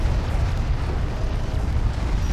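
A hostile armored vehicle explodes in the real-time strategy video game Homeworld: Deserts of Kharak, a loud, sustained low rumbling boom that rolls on for the whole stretch without voices.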